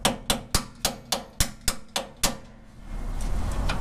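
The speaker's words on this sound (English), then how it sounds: "he's just gonna take a brass hammer and tap it out" A brass hammer taps out a stuck bolt on the driver's side of an axle during an axle swap: about nine sharp metallic strikes in a steady rhythm, close and loud. A low rumble follows once the hammering stops.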